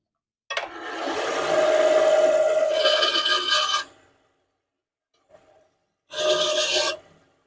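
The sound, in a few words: bandsaw cutting quarter-inch wood pieces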